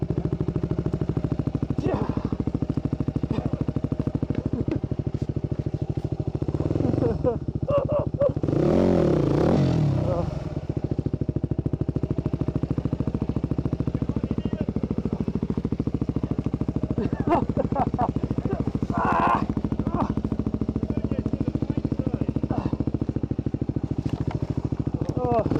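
Enduro adventure motorcycle engine droning steadily while riding, a continuous near hum with a brief louder rev surge partway through and scattered clatter from the terrain.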